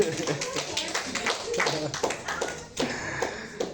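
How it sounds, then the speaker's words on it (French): A church congregation claps together in a lively, uneven burst of applause, mixed with voices and some tapping throughout. "Est-ce qu'on peut applaudir le Saint-Esprit?"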